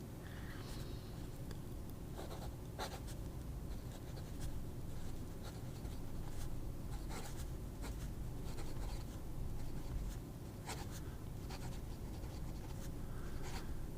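Fountain pen with a number 5 nib writing in Natami ink, very quiet close scratching and rubbing of nib on paper in short strokes and pauses, with no talking.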